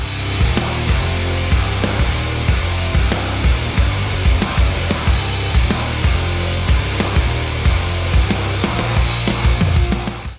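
Heavy distorted electric guitar riff through a Bogner Uberschall amp, with chugging low-end rhythm and a dense, loud, steady wall of tone alone without talk.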